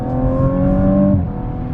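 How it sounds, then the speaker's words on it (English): Audi RS5 with a twin-turbo V6, exhaust in dynamic mode, giving a loud sustained engine drone that holds a steady pitch before dropping off, with no talk over it. "You hear the exhaust just open up. Very different sound."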